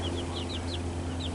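A broody hen with her newly hatched baby chicks gives soft chirps and peeps over a steady low background hum, the high cheeps recurring in a quick, uneven series.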